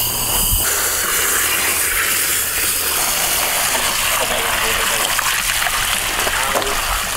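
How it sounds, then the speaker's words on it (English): Loud, continuous splashing and gushing as water is poured into a sewing machine, a hissing wash of water that fills the whole stretch without letting up. "Don't put water in your sewing machine."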